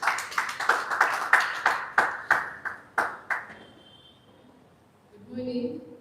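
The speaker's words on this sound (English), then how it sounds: "Let's give a big round of applause for her." A small audience claps for a speaker at a wellness event: about a dozen quick, crisp handclaps close by that gradually thin out, then a quiet pause before a brief voice.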